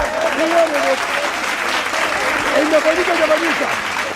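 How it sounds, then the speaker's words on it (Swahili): A church congregation claps loudly and continuously for Jesus during a healing service, sustained applause filling the room while a voice calls out over it. "Pigeni Yesu makofi."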